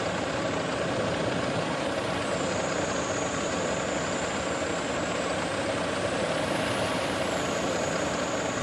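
Fuso Fighter Sumatra truck mod in Bus Simulator Indonesia, a steady loud engine drone running throughout, with a hissing air-brake sweep and faint tonal beeps rising over it near the start and end.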